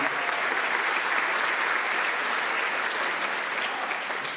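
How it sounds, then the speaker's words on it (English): Dense, steady applause from a high school choir concert audience for the performers and the lighting and sound crew, even in volume throughout without pause. "give them one more round of applause"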